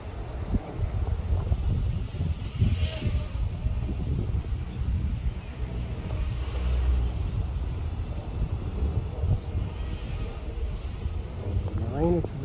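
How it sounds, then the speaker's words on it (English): Wind buffets the microphone outdoors while a model aircraft flies, a constant low rumbling roar with gusts under intermittent talk. "Sheesh, but the wind is really doing a number on it."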